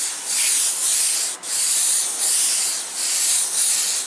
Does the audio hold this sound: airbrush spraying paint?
yes